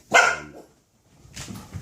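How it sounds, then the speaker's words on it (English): A dog gives one sharp, close bark, and after a brief pause a softer second bark or yelp follows. "the dogs are saying goodbye"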